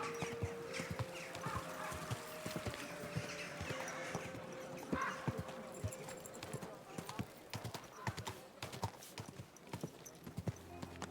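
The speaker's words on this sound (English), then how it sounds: "Easy, good horse." Horse hooves clip-clopping in the medieval game Kingdom Come: Deliverance II, a steady rapid rhythm of hoof strikes under a voice calming the horse, with a faint whinny and bird sounds in the background.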